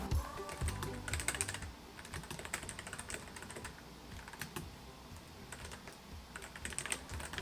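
Rapid, light clicking of typing on an Azio Cascade slim wireless low-profile mechanical keyboard, with quick bursts of keystrokes separated by brief pauses and heard close up and alone.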